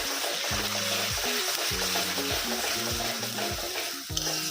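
Garlic, ginger and onion paste masala sautés in a pan while being stirred for a loitta fish jhurjhura, with a dense, continuous close sizzle and a faint tonal hum beneath it.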